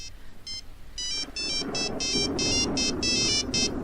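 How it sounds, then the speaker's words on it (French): A telephone rings with a repeating electronic ringtone, bursts of bright tones pulsing steadily and growing louder, close by over a low background murmur. "Soudain, une sonnerie de téléphone retentit."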